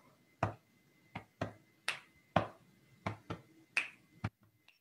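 A crisp run of about nine finger snaps and hand claps, tapped out in a loose, steady rhythm. The hits are close and sharp, with quiet gaps between them and no talking.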